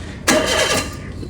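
A Toyota Avanza engine cranks and catches in a single brief start, loud and close, its roar settling down after about half a second.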